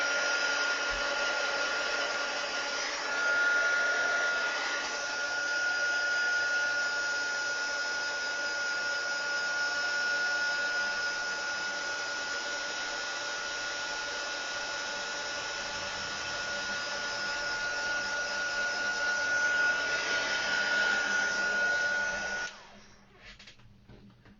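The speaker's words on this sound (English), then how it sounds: "So I'm just going to blitz that with my heat tool." A handheld heat tool blows hot air over freshly stamped ink on paper, a steady loud whirring roar with a faint whine that runs unbroken for about 22 seconds, then cuts off abruptly.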